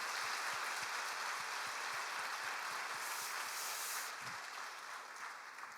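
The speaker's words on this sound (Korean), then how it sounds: "하나님께 영광의 박수 올려드리겠습니다" A church congregation applauds together at a missionary's service, a dense, steady wash of clapping that fills the room throughout, easing slightly toward the end.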